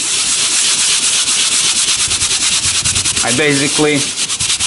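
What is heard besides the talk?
fine-bristled brush scrubbing textured vinyl car top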